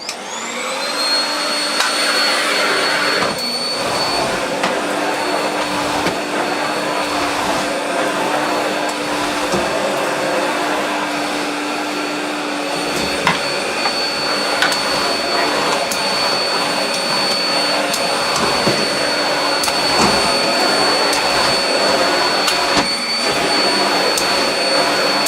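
An AmazonBasics bagless cylinder vacuum cleaner runs over deep carpet with a loud, steady motor whine and roar, its pitch shifting slightly as the head is pushed back and forth, with a voice briefly audible under it.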